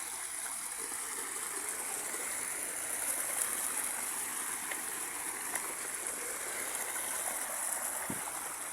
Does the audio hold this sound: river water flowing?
yes